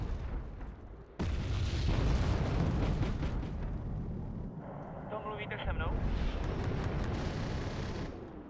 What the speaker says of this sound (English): That artillery is horrible.